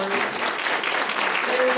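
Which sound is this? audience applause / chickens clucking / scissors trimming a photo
audience applause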